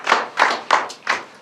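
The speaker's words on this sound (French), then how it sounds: "Là on peut applaudir" A small audience claps in short bursts, about five distinct rounds of hand claps spaced roughly a third of a second apart, close and fairly loud with no talking.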